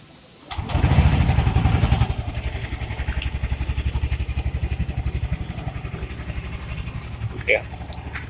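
Keyless motorcycle engine starting automatically: a loud starter whir kicks in, catches, then settles into a steady, rapidly pulsing idle, with a brief click and a voice-like blip near the end.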